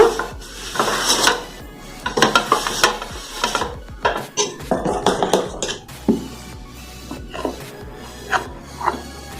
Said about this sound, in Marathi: पहिला कापडाने स्वच्छ पुसून घ्या